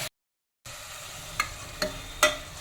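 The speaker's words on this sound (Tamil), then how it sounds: "அதனால் வெங்காயம், தக்காளி, பச்சை மிளகாயெல்லாம் பச்சை வாசனை போகிற அளவுக்கு நல்லா வெந்துடணும்" Onion, tomato and green chilli sauté in a pan for a brinjal side dish, a soft steady sizzle after a short silent gap, broken by three brief stirring scrapes and clinks.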